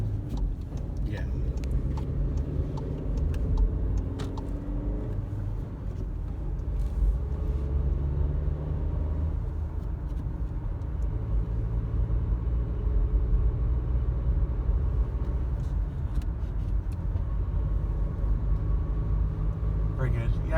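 Steady engine drone and road rumble from a 2019 Volkswagen Jetta S on the move, low and continuous for the whole stretch, with faint pitch changes as it works through gears at low revs.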